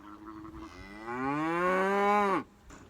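A beef cow moos once at evening feeding time with sorghum silage, a loud, close, rising drawn-out call of about two seconds that cuts off sharply.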